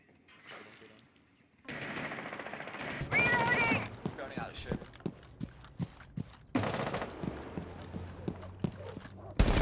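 Rainbow Six Siege gunfire in a competitive match, with sharp rapid shots in bursts and single cracks, some bursts dense like automatic fire, mixed with game noise and intermittent voices over team chat.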